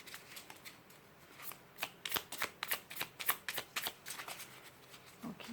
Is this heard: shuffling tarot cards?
yes